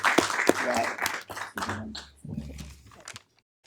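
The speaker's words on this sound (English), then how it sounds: "So I think he deserves a round of applause." Applause breaks out at a city council meeting, a dense patter of clapping from the audience that swells then thins out and fades to quiet, with some voices mixed in.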